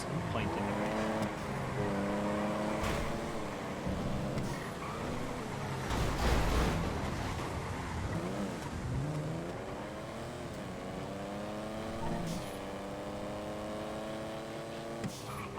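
Race cars roar through a FiveM GTA V race, engines rising and falling in pitch with a loud burst midway, all under ongoing talk.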